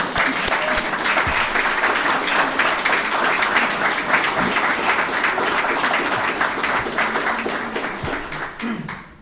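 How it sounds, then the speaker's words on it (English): An awards-ceremony audience stands and applauds the hardworking staff, a loud, dense, sustained round of clapping that fades slightly in the last second. "give them a round of applause once again"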